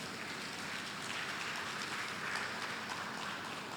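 Parents and guests at a primary school graduation give a round of applause, a faint, continuous wash of clapping from across the hall.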